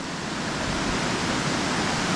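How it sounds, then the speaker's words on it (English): A waterfall set among rock cliffs, heard close, roars as a loud, steady rush of falling water with no breaks. "So I'll film the waterfall"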